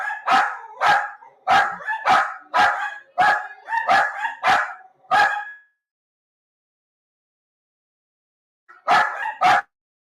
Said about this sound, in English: I think the dogs are barking at a delivery.